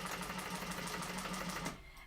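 A sewing machine stitching a bag handle, a fast steady rhythmic whirr of needle strokes close by that runs for most of the moment and then stops abruptly.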